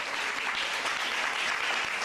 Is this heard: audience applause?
yes